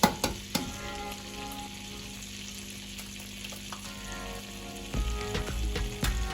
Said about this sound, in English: So while it's cold, we need to crack 4 eggs into the pan.